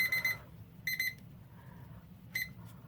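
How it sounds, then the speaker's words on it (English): An electronic egg timer alarm beeps in three short, shrill bursts with pauses between them, close and fairly loud against quiet background. "I know John ordered me a new egg timer"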